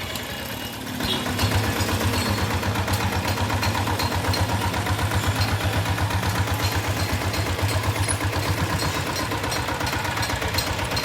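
A diesel Bullet motorcycle idles with an aftermarket silencer fitted, its steady low thumping exhaust beat running loud and close without a break after a short quieter start.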